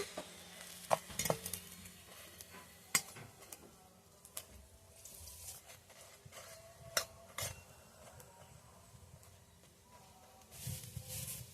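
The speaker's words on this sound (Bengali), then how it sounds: "আমি ঘি দিয়ে ভেজে নেব" A paratha frying in ghee makes a faint, low sizzle under scattered clinks and scrapes of a spatula against the pan, with a few sharp taps and a louder crackle near the end.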